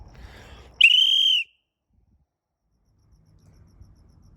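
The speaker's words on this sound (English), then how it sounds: "Well, everybody, the whistle works fine." One sharp, shrill blast from an old metal whistle, about 100 years old, lasts about half a second, then fades to near silence with faint background rustle.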